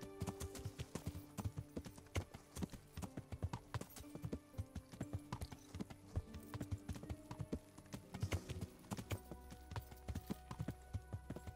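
Rapid, steady clip-clop of horse hooves at a fast gallop in Kingdom Come: Deliverance, close and continuous, with light game-like background tones and no talking.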